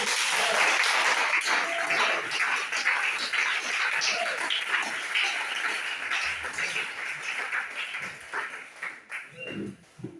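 A church congregation at a Pentecost service applauds, dense steady clapping from many hands filling the room, gradually thinning and fading toward the end.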